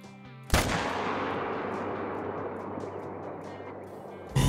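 A single loud rifle shot in the Call of the Wild hunting game cracks suddenly, then a long rolling echo decays across open terrain for several seconds before another sharp sound starts at the end.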